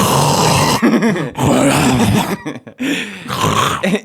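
A person imitating loud snoring with voice and throat, repeated drawn-out rasping groans with short breaks between them, close and very loud.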